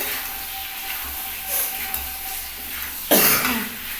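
Poppy seed paste being stirred into urad (biuli) lentils in a pan: a soft, steady scraping stir with light sizzle, ending in a louder burst of stirring and hiss.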